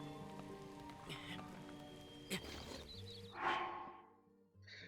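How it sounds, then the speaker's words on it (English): Rain pattering steadily on surfaces in Breath of the Wild, a soft hiss beneath musical game tones and brief effects before fading out. "I'm gonna wait for the rain to pass"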